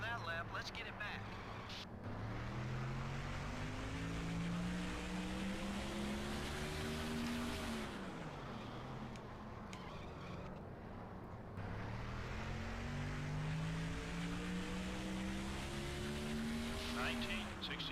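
NASCAR Thunder 2004 race car lapping, a steady engine drone that climbs in pitch through the gears, drops and climbs again, with faint tire noise, and someone talking quietly over the game audio.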